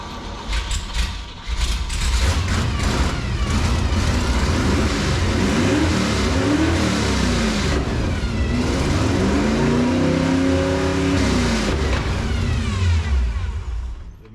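A 1955 Chevy gasser engine revs hard through open headers, a loud, raw roar that rises and falls in repeated throttle blips over a steady rumbling idle.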